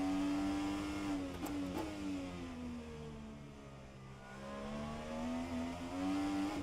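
An Indycar engine in the rFactor 2 racing game, on the Long Beach street circuit, holds a steady high drone that dips and rises with throttle, plus a couple of brief gearshift blips early on. It is faint and there is no talk.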